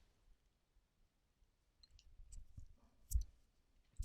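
A computer mouse is clicked a few times while a web hosting control panel's domain name server settings are opened: faint, sparse, sharp clicks over a quiet background, with a more distinct click near the end.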